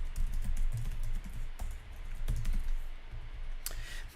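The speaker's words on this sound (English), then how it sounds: "So let's type it line by line." Steady typing on a computer keyboard while entering code line by line, a close, continuous patter of key clicks with a few sharper strikes and no talking.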